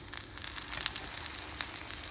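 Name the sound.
prawns frying in hot oil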